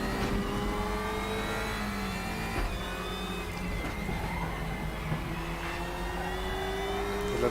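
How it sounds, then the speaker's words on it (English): A touring car engine in the RaceRoom WTCR 2020 racing game revs steadily with rising and falling pitch and a faint transmission whine, loud and continuous with no talk. "The engine sounds are mixed quite nicely."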